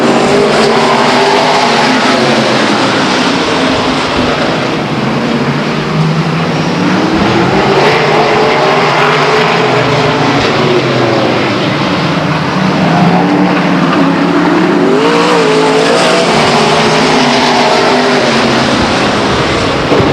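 Race cars roar at Stockton 99 Speedway after the green flag, a loud continuous engine din with rising and falling passes as the field sweeps by down the front stretch.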